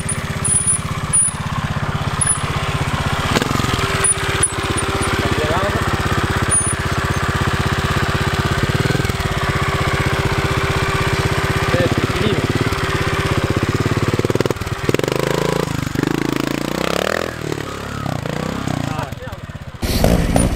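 A trials motorcycle engine idles and putters steadily, with occasional revving bursts and light mechanical knocks, close by throughout.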